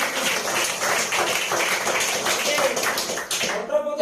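A congregation claps hands together at a Christian church service, dense overlapping claps forming a steady, loud rhythmic wash throughout, with voices mixed in beneath.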